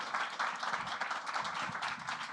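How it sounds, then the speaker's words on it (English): A crowd applauding, brisk overlapping claps filling the space evenly for a couple of seconds. "Give a round of applause, Natasha."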